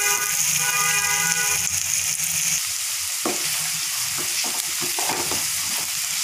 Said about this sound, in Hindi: देखिए प्याज ब्राउन होने लगे हैं।